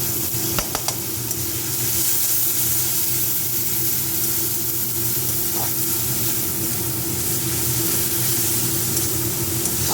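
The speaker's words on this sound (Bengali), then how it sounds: "গ্যাস বাড়িয়ে দেওয়া হলো আমরা এবার এর মধ্যে দিলাম সামান্য একটু হিং আর হলুদের গুঁড়ো" Asafoetida and turmeric powder sizzle in hot cooking oil over a raised gas flame, a steady loud frying hiss with a few brief clinks near the start.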